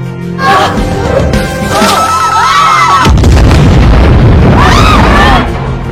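A house explodes in a film scene, with a heavy, loud boom and rumble erupting midway and sustained roaring debris noise following, after a busier stretch of music-like tones.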